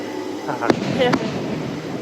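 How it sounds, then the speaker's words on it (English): Fireworks going off outside, two sharp cracks in quick succession over a steady background hiss, moderately near and fairly loud. "Someone's doing fireworks for us."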